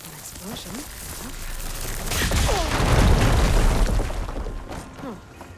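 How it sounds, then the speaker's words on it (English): An explosion in the video game Horizon Forbidden West swells into a loud, sustained booming roar that peaks near the middle and slowly fades, with a voice talking over it. "An explosion."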